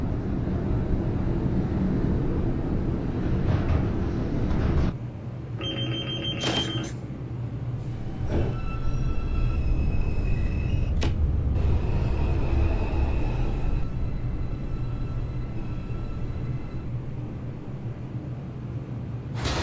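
A simulated NYC Subway R142 train on the 5 express line runs with a loud, steady low rumble, and an abrupt shift partway through brings a series of high electronic beeps and tones over the continuing drone. No one speaks.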